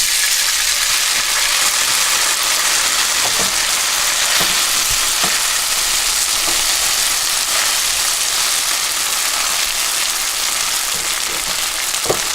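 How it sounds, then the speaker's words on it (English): Noodles frying in a hot pan for seafood pan-fried noodles, a loud, dense, continuous sizzle with some faint crackles and no talking. "And I just fry the noodles."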